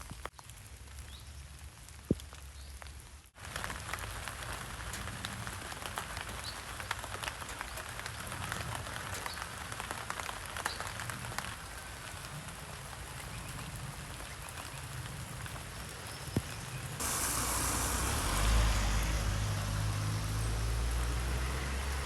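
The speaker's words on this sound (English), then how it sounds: "Alright, so it's still raining." Steady rain falls throughout on a path along the Canal d'Orléans in France, a constant hiss of drops on surfaces, growing a little louder and heavier near the end.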